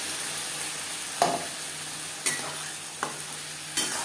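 Tomato, ginger and green chilli paste cooks with onions in a pan over medium flame, a soft steady sizzle broken by four separate scrapes of a spoon stirring.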